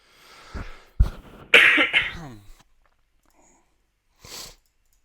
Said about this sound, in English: Sorry for all the coughing, guys.